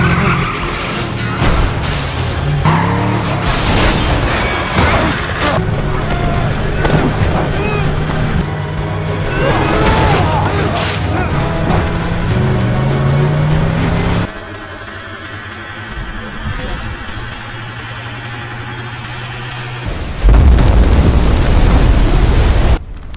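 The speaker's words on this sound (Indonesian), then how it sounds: "Jack membawa mobil itu keluar untuk diledakkan di sungai" A loud, dense burst of engine roar and crashing booms with tire skid as a car is driven off to be blown up in a river in a film scene, dropping to a quieter rumble before another heavy blast near the end.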